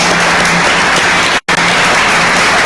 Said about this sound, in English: let's just give the puppy raisers a big round of applause